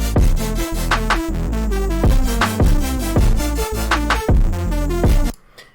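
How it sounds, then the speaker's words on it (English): A future bass electronic drum loop with heavy kicks and snappy claps, an extra clap added after every other clap, plays loud and rhythmic for about five seconds before cutting off abruptly. "I added an extra clap after each actual clap, every other one"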